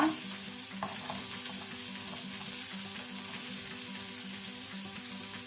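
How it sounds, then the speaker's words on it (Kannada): Onions sizzling steadily as they fry in a pan over a low flame, a continuous close hiss with occasional soft clinks of stirring. "ಇದಕ್ಕೆ ಆನಿಯನ್ ಈರುಳ್ಳಿಯನ್ನು ಹಾಕೊಳ್ಳುವ."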